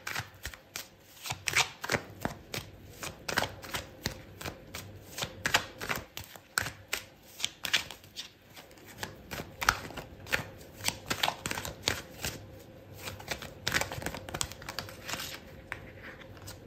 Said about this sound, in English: Okay, so I'm going to put another card for you,